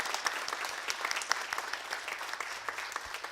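Church congregation applauding during a Sunday worship service, a soft, fairly distant patter of many hands clapping together, steady for a few seconds with no talk.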